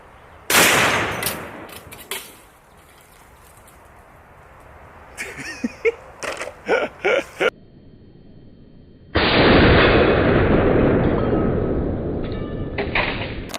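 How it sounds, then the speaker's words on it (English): A single loud, sharp incendiary rifle shot into a fire extinguisher, followed by a quick run of clattering knocks and then a sustained hissing rush of pressurized discharge that slowly tapers off. "fire extinguisher versus incendiary round, if anything cool happens"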